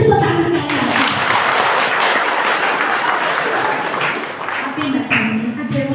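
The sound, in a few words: church congregation applause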